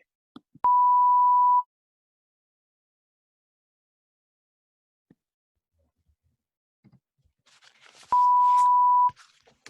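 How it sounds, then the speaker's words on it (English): An answering machine sounds a clean, steady electronic beep lasting about a second. A second identical tone follows after a quiet pause, with faint background rustle around it. "Please leave a message for Michael, Michelle, Chris, or Sophie after the sound of the tone."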